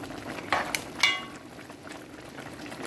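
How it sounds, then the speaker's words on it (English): Water tipped into a pan of pasta seasoned with salt and oil, giving a soft bubbling, hissing liquid rush with a couple of brief splashy bursts, close and fairly loud. "Here I tip a little water"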